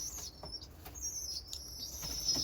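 Pet birds in a loft chirp and tweet in short, high bursts, some overlapping, over a constant low room hum, with a few soft flutters; no one talks.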